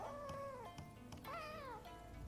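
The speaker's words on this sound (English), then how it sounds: "there's a cat in here" A cat meows in the video game Rise of the Ronin, with two drawn-out, wavering meows about a second apart, clear but quiet against faint background game ambience.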